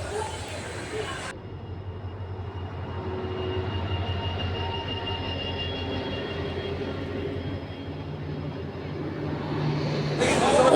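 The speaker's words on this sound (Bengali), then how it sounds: "ট্রেন ঢুকছে" A train pulling into a station platform, its low rumbling drone and rolling clatter sustained and swelling slightly as it nears, with a burst of broadband noise at the start and end.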